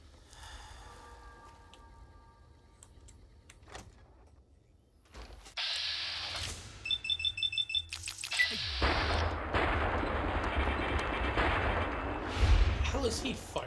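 Gunfire in the video game Fallout New Vegas, with a burst of rapid shots around the middle followed by dense, sustained firing and loud impacts, mixed with game ambience.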